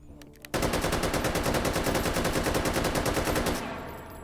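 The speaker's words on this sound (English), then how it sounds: "they just dropped to the ground whenever they saw me start firing." Sustained automatic AK rifle fire from a video game, a loud, dense burst of rapid shots running about three seconds after a brief lead-in, then cutting off into a fading tail.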